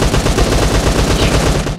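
Rapid automatic gunfire in the PUBG Mobile team deathmatch game, loud close bursts of shots firing continuously for under two seconds.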